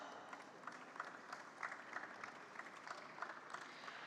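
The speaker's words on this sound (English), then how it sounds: "Can we give him a round of applause?" Faint, distant applause at a rural food-tech roundtable, a soft steady patter of clapping with a few sharper claps standing out.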